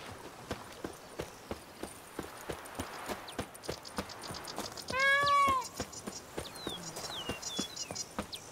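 In Witcher 3: Blood and Wine, a cat gives one short, clear meow midway, set against steady rhythmic hoofbeats of a horse clip-clopping and a quiet outdoor ambience.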